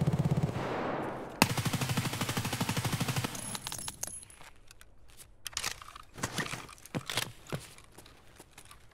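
Automatic gunfire in the video game Escape from Tarkov, a loud rapid burst of shots lasting a couple of seconds, followed by scattered sharper single reports and clatter at a distance.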